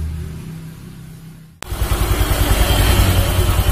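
An automatic scooter engine runs after an oil and radiator refill, a quiet lead-in that snaps into a close, loud, steady engine drone with a fast pulsing idle rhythm.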